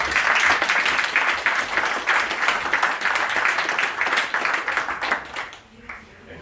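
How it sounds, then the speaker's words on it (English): Audience applause for a girls basketball team at a school board meeting, loud and sustained clapping that tapers and fades out near the end. "So, round of applause for the girls basketball team."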